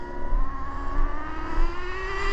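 A Traxxas Nitro Slash RC car with a 3.3 nitro engine revs at partial throttle in a high, buzzing whine, its pitch climbing steadily, loud and close throughout.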